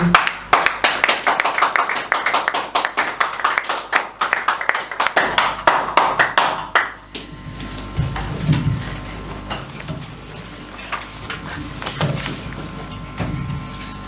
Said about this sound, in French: sous nos acclamations, on acclame pour Dieu